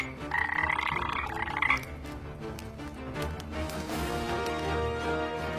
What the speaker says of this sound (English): a toad leapt from her mouth and landed on the floor